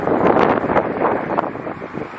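Gusty South Texas wind buffets the microphone in loud, uneven surges, a continuous roaring rush that swells and eases over a couple of seconds.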